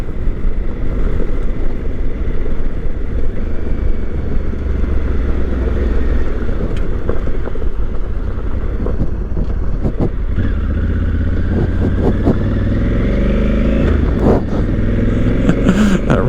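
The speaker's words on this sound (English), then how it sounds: "That rear tire will move some gravel." A 2020 Honda Africa Twin motorcycle revs hard on a gravel track at a wildlife refuge, its loud engine droning and rising in pitch, with rough crunching and scattered gravel clatter under the throttle.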